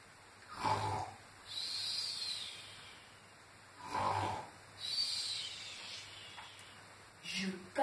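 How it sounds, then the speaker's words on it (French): Slow, breathy snoring comes in several long drawn-out snores and exhales at a steady pace, fairly close and moderately loud. "Écoute le ronfler."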